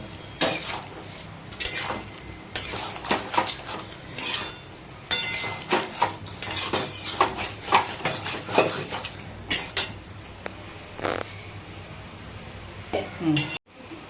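Peas and potatoes with spices being stir-fried in a pan, mostly repeated metal spoon scrapes and clinks against the pot over a faint low sizzle, close and irregular.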